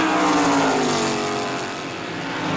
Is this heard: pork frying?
no